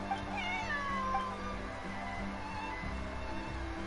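A cat in Genshin Impact meows, a few short gliding cries over quiet game ambience, close and clear with no speech.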